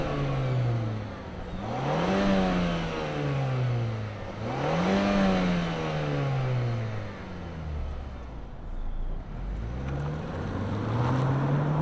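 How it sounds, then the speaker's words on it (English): A 2025 Mazda 3 Turbo hatchback with a turbocharged four-cylinder engine and all-wheel drive revs repeatedly, its pitch sweeping up and falling back in three or four loud, close blips before settling toward idle. "let's fire up this turbocharged 4-cylinder engine and hear what it sounds like."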